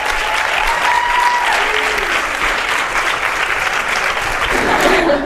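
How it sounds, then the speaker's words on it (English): An audience at an onstage demonstration breaks into sustained, loud applause that holds evenly throughout, with a faint whistle and scattered cheers mixed into the clapping. "Big round of applause for Kira, everybody."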